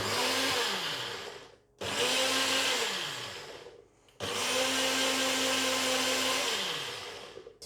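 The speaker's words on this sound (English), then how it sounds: "grab our NutriBullet, and let's give it a little whiz." A NutriBullet blender whizzes a vegan tuna mixture in three loud bursts, each revving up and winding down with a falling motor whine, separated by brief pauses.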